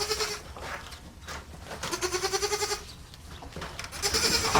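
A goat bleats on a farm in several loud, wavering calls spaced through the clip, with the last cry rising at the end.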